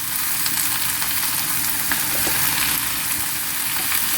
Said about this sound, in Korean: 양파가 이제 투명빛으로 바뀌면 콩나물 그리고 어묵을 넣어주세요.